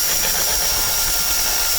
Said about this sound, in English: I'll have to drill it some more.